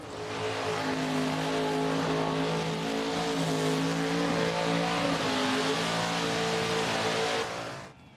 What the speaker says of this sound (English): About to hit the start line right now, Chris Genter.